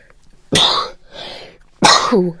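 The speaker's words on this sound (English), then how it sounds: "I'm just sneezing a little bit." Two sharp, loud bursts of breath, sneeze-like, separated by a softer exhale, close to the microphone with no talking.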